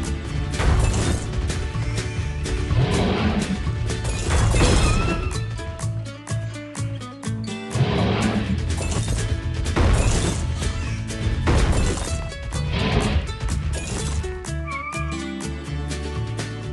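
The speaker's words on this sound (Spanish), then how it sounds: "Puedes romper las rocas para encontrar más." Rocks being smashed in a Paw Patrol game on a volcano, repeated cracking crashes and thumps over cheerful background music, recurring every couple of seconds.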